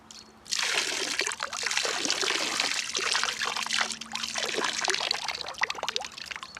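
Hot water poured off boiled potatoes from a pot, a close, steady splashing trickle that continues for several seconds with no talking.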